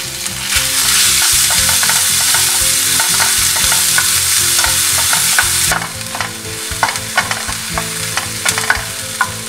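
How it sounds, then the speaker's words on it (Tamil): Sliced onions sautéing in a pan for onion chutney, a steady loud sizzle and frying crackle with stirring scrapes throughout, no talking. "இங்க வெங்காயம் கொஞ்சம் வதங்கிருச்சு."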